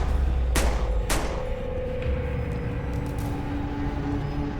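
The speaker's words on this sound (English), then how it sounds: "And he fired that shotgun." Two sharp shotgun blasts in quick succession, loud and close, followed by a lingering low rumble and faint background hum.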